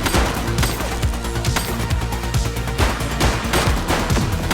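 Rapid gunfire from the police crime game The Precinct, dense overlapping bursts of shots running continuously at close range with no speech.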